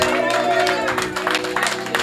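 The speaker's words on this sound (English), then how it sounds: "Are you clapping or you are not celebrating?" Members of a church congregation clap during a Sunday gospel service, with steady scattered clapping mixed with crowd noise and voices throughout.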